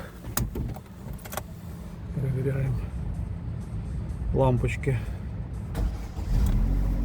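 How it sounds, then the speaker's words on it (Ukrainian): A 2009 Opel Zafira with a 1.6 petrol engine has its keys jangle, then the engine cranks and settles into a low idle rumble near the end. Someone talks through most of it. "Зараз заведемо машинку."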